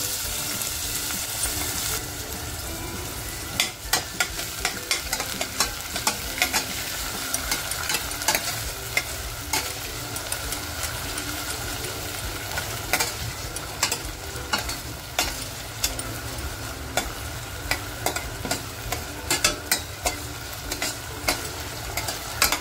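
Sliced onion frying in oil with ginger, garlic and coriander paste in a pot, a continuous close sizzle with frequent stirring scrapes and clicks throughout, moderately loud.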